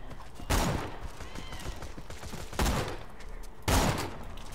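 Gunfire in the video game Borderlands 2 crackles in three sharp bursts spaced a second or two apart, loud against a busy background of game noise and faint chatter.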